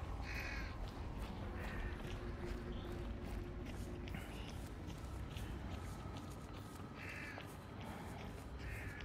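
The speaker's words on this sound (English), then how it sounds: "Crows." Crows caw in bursts through a quiet outdoor soundscape in the Hunt video game, several harsh calls spread across the clip at moderate distance over a low ambient rumble, with no talk.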